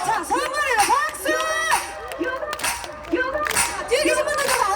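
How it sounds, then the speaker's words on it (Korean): An audience at a Korean technical high school festival performance claps and cheers over loud live music with melodic singing, with crowd noise and shouts swelling and falling throughout. "뒤에 계신 분들도 다 같이 박수!"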